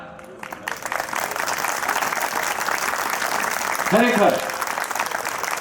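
Applause rises from an audience at a Jain Upadhan Tap Mokshmala function as Viragbhai Shah is invited, steady clapping throughout under a voice speaking over the crowd.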